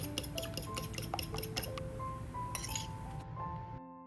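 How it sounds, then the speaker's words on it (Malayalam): A spoon or fork beats two eggs in a bowl, giving quick metallic clinks against the sides. The taps are close and steady at first, then grow sparser before stopping. "ഒരു സ്പൂണോ ഫോർക്കോ വെച്ചിട്ട് നന്നായിട്ട് ബീറ്റ് ചെയ്തെടുക്കാം"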